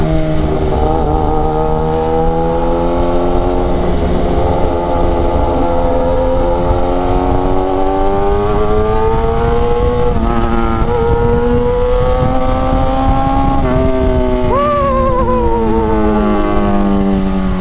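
A Kawasaki ZX10RR sport motorcycle on a night ride, its engine droning loud and steady, revs rising gradually through long pulls with a gear change near the end, heard from the rider's position.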